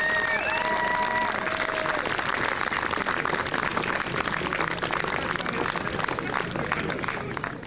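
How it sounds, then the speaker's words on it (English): Spectators at a strongman competition applaud loudly and continuously for the competitors, with crowd noise and cheering blended into the dense clapping throughout. "give them a huge round of applause"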